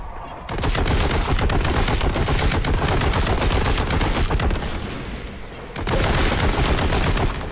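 Bolter fire from Boltgun, the Warhammer 40,000 shooter: dense, continuous automatic bursts hammering loudly and close for most of the stretch, broken by a brief pause near the end before the firing resumes.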